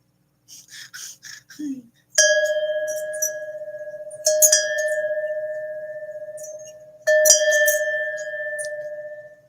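A struck metal bell rings out with sustained, pure tones, three separate strikes each left to decay slowly, preceded by a few soft taps and a brief voice sound, heard close and clear in a quiet room.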